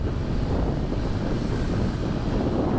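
Steady wind rumbling and buffeting against the microphone, a constant low roar with no pauses.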